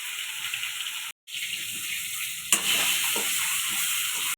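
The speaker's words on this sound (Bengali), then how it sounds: "আমি এদিকে কড়াতে ডিমটা ভেজে নিচ্ছি।" Boiled eggs fry in oil in a kadai, giving a bright, continuous sizzle with a brief cut and a louder hiss partway through, close and without talk.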